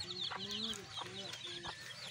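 Domestic chicks in a simple wooden backyard rearing pen, giving repeated high peeping calls in a steady rhythm, close by at moderate loudness, with soft clucking from an adult hen underneath.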